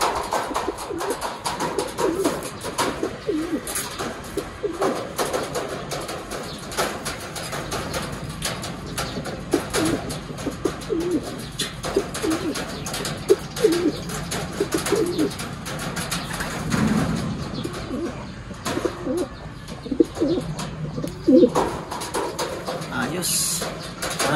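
Pigeons coo softly in a loft setting with other bird calls, while people talk throughout and scattered knocks and clatter sound nearby.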